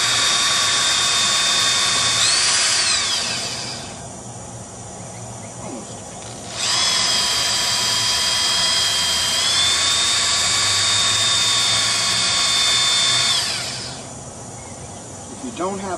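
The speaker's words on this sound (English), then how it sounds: "set the drill to turn to loosen screws" Power drill turning to twist wire into a Mobius coil, a high whining motor that runs steadily, drops away briefly, then spins up again for a long stretch before easing off, with a low background rumble throughout.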